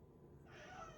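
A pet cat meows indoors in a single drawn-out, moderately loud call that rises and holds near the end, with no speech over it.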